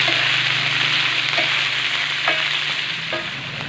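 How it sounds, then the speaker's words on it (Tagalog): Beef ribs sauté in a hot pan for adobo with a loud, steady sizzle, broken by a few light scrapes of stirring. "Yan, pag ganyan, nalalagay na natin itong beef ribs. Yan, nagisa muna natin ito."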